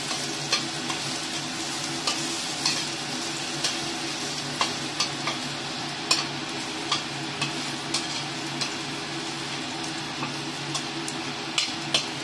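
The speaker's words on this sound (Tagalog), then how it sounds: "ipa-fry natin yung garlic hanggang mag-light brown para mas lalong mabango" Garlic sizzles steadily in a frying pan, a continuous bright crackle punctuated by regular clicks and taps of a utensil stirring against the pan, with no talking.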